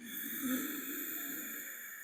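Slow, steady inhalation through the nose with the throat constricted, a Darth Vader-like meditation breath, giving a close, airy, continuous rasp for about two seconds with no speech.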